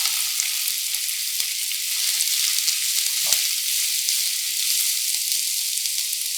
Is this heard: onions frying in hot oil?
yes